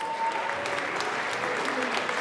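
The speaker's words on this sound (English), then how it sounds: "Let's give them a warm round of applause" Steady applause from an audience in the Colorado House chamber during a 2018 legislative session, dense and even for a couple of seconds with no breaks.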